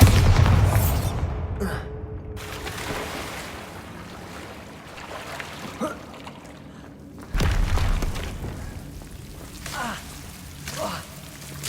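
A Bombarda spell explosion in Hogwarts Legacy on PS5 opens with a loud, deep, rumbling boom, then trails off into lower game noise. A second heavy burst lands midway, and a voice calls out at the start.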